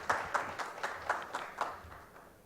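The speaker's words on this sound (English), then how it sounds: "A round of applause for Mr." Audience at a security summit conference inauguration gives brief applause, a few sparse, distant claps fading out over a couple of seconds.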